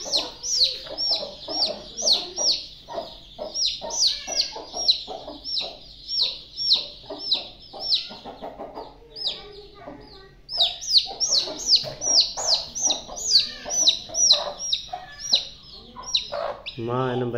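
A chicken clucks repeatedly in quick, nasal bursts close to the listener, with short pauses between runs and occasional voices around.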